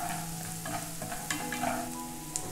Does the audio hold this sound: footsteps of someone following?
no